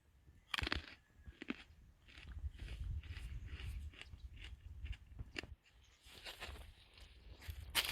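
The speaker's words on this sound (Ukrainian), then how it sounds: "Зараз ви почуєте, як вона хрумтить" Crisp crunching bites into a seedless Kishmish grape, chewing close to the microphone, a series of sharp cracks followed by steady munching.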